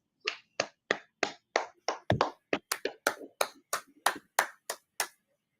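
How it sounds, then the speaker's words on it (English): A small group clapping in time in a studio setting, about sixteen sharp, close claps in a steady rhythm with a brief flurry partway through, heard alone without talk. "clap it up"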